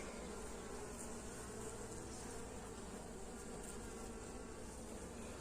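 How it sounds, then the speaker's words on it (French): A dense, continuous drone of small honeybees swarming at an open hive during an inspection, steady and close with no voices. "c'est des toutes petites abeilles"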